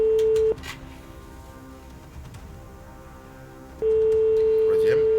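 A phone ringing in a steady tone during a live televised Christmas prize-draw broadcast in Tahiti, heard twice with a long pause between rings, fairly loud against low background noise.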